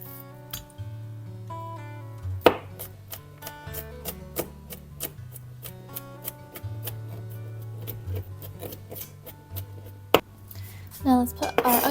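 Garlic cloves smashed, peeled and chopped in a home kitchen, with a steady run of sharp knife taps on a cutting board, a few louder thumps and clinks, and music playing quietly underneath.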